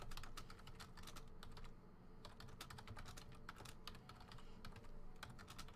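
Rapid typing on a computer keyboard, a steady run of close, crisp key clicks with brief pauses, heard alone without voices.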